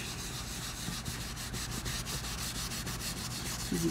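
Someone buffs a fabric journal cover with a continuous, soft rubbing hiss close by, steady and faint throughout.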